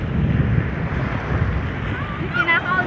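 Sea waves wash along the Batangas shore in a steady, loud broadband rush with wind buffeting the microphone, and a voice briefly speaks near the end.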